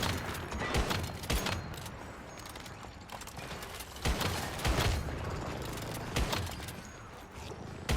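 Gunfire in the video game Once Human hits a boss in the Black Sector, Zone of Haze, as a few sharp shots and short bursts cut through a dense, rumbling game soundscape.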